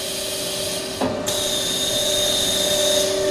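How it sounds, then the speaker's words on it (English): A Li Chou facing and centering machine from Taiwan runs with a steady, loud mechanical hum and a high whine, broken by a short clunk about a second in as it lifts a workpiece toward the feeder. "have the machine lifting the workpiece to the feeder area."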